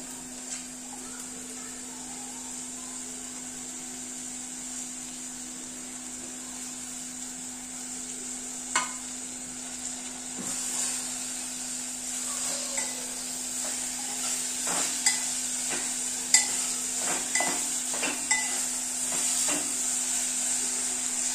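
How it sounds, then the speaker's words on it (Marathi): Chopped tomatoes frying in a pan for prawn rice, a steady soft sizzle and hiss throughout with occasional stirring clicks and scrapes growing busier toward the end, no talking. "आता यामध्ये मी बारीक चिरलेले आपले टोमॅटो घालणार आहे।"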